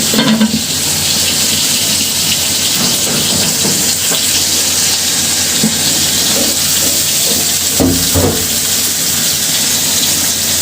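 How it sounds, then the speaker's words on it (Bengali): Onions heat in oil in a covered pan for a Bata fish curry with taro. A steady, close sizzling hiss runs throughout, broken by a few clinks and stirring scrapes. "পেঁয়াজটা ঢেকে দিয়ে গরম করে নিতে হবে।"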